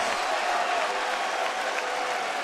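A baseball crowd at Rogers Centre roars and applauds in a steady, dense wash of noise after a manager is ejected, loud and continuous throughout.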